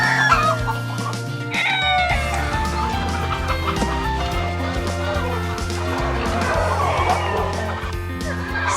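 Easter Egger chickens cluck and chatter steadily with overlapping calls, a rooster-like crow and mixed barnyard sounds close by, loud and continuous throughout with no talk.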